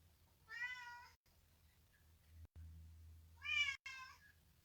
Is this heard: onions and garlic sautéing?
no